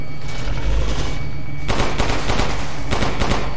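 Gunfire in the video game Resident Evil Village comes as several loud, rapid bursts of shots after a quieter stretch of game ambience, with no voice over it.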